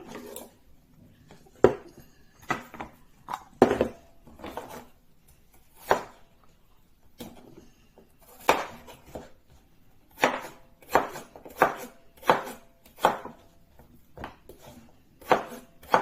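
A knife chops potatoes on a cutting board, sharp irregular knocks in loose bursts, close and clear against a quiet background with no talking.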